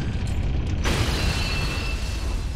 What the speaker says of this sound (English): And Mario died in that explosion.